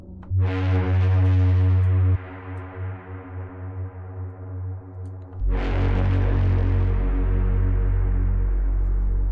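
Two long sustained notes from the Pigments 4 software synthesizer play in turn, a bright buzzy wavetable tone layered over a deep, smooth sine bass.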